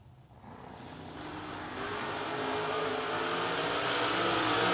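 A drag racing car launches off the line at a Fall Fling event, its engine roar building steadily in a rising, swelling wash that grows louder as it accelerates away.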